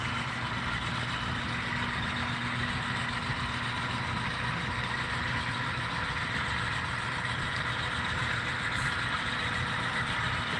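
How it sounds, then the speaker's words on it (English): An HO scale model manifest freight train rolls through a Morgan-area corner of a Union Pacific Evanston Subdivision layout, giving a steady, continuous rumble with a low hum that holds level throughout, with no talk. "Here we have a manifest train coming through Morgan there in the corner and heading towards the Weber River Canyon."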